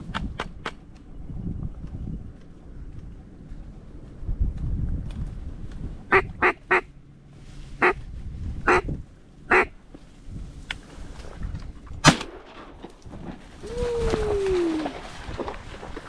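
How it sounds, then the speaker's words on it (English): Ducks quack during a duck hunt, with a few sharp, separate bursts of calls spread across the middle, then a drawn-out falling call near the end, all over a low, steady outdoor rumble. "That's how you work ducks."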